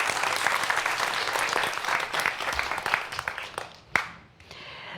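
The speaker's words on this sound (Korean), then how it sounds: "강연 박수로 다시 한번 청해 보겠습니다" Applause from a lecture audience at a Korean science talk on forensic investigation, dense steady clapping that carries for about four seconds and then tapers off to scattered claps.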